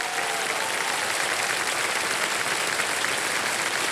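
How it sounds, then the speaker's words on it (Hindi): Studio audience applause on a televised Hindi quiz show, a steady dense wash of clapping holding at even loudness throughout with no voices over it. "तालियां बजती रहें देवी सज्जनों।"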